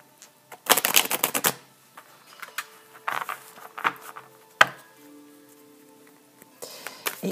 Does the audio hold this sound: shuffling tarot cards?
yes